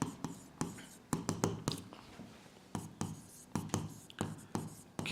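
Chalk or marker strokes on a board during a maths lesson, a run of short scratchy bursts in irregular rhythm, close and fairly quiet, with no talk over them.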